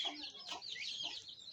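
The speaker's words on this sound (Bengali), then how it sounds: "এই দেখেন সেই বদমাইশ মুরগি" A chicken clucks and squawks close by in a small backyard flock kept among ducklings and other animals, in a short continuous burst.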